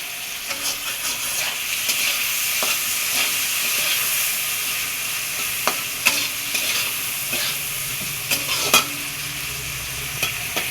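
Turmeric and chili powder fry with prawns in a pan, giving a loud steady sizzle and hiss with scattered scraping stirs of a spatula against the pan, and no talk.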